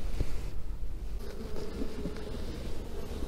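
Honeybees buzz steadily inside a hive in the evening when the whole colony is home, a dense continuous drone close to the microphone with no voices.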